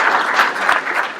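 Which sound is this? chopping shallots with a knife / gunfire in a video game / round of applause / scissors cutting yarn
round of applause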